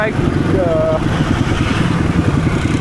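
A motorcycle engine runs steadily close by, a loud continuous low throb with a brief whining tone early on, while a person talks over it.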